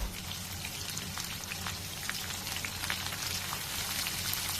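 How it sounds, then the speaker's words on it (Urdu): Carrots frying lightly in oil with sugar added for Afghani Kabuli pulao, giving a steady close crackle of tiny sputtering pops that never pauses. "سب سے پہلے میں نے گاجروں کو ایڈ کیا آئل میں، اس کو ہلکا فرائی کریں گے"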